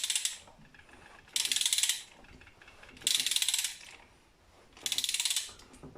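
A hand ratchet snugs bolts while a riding mower engine is being reassembled. Three close, even bursts of rapid clicking are separated by short pauses.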